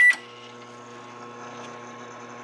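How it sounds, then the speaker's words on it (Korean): A microwave oven runs while heating a kabocha squash egg dish topped with cheese. A short beep at the start gives way to a steady, close electrical hum that stays even throughout. "저는 전자레인지로 한번 해보도록 하겠습니다"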